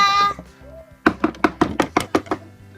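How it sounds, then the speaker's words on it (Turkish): Eight sharp knocks on a door come in a quick, fairly even series, close and loud, after a brief faint tone. "Tam odama çıktım kapı çaldı."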